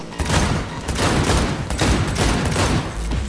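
Rapid, loud automatic gunfire fills a firefight in the video game Cyberpunk 2077, with dense overlapping bursts running nearly without pause and no voices.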